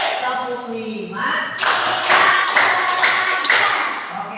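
Schoolchildren clap in a counted pattern, a run of five crisp group claps in steady rhythm after a teacher's spoken prompt, loud and near in the classroom.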